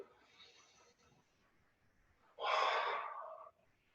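A single slow, controlled breath during yoga practice, a soft airy inhale then a louder, fuller exhale about a second long, close and alone.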